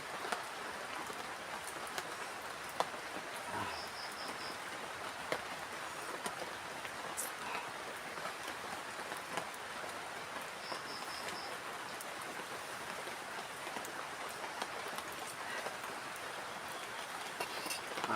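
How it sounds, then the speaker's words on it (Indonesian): Steady rain falls at night over a campsite, a soft, continuous hiss of drops on surfaces with a few brief faint chirps. "Tapi ini hujannya masih turun."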